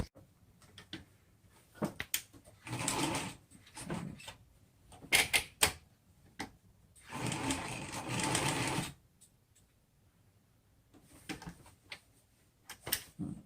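A home sewing machine stitching a DIY fabric face mask, running in several bursts of rapid mechanical stitching separated by pauses and a few clicks, close and fairly loud.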